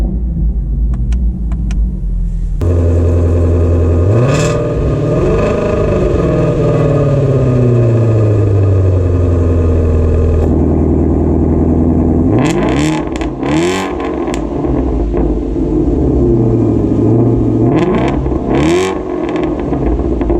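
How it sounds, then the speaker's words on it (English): A Shelby GT350's engine idles with a deep rumble, then is revved repeatedly, climbing into loud roaring swells and dropping back, up close and continuous without talk. "I'm gonna rev it a little bit for you as well."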